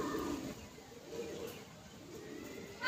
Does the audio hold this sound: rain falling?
no